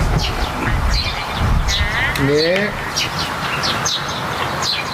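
Birds chirp and call outdoors in brief, scattered bursts, with people chatting close by over them and one short whistled or sung phrase in the middle.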